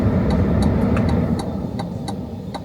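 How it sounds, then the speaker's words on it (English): A 2027 Chevrolet Bolt electric car pulls out onto the road with steady low road and cabin rumble, while faint regular ticks repeat over it throughout. "Let's pull out onto the road."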